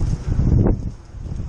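Strong outdoor wind gusts roar and buffet loudly and close, a rough continuous rush that swells and eases over a moment, with no voices.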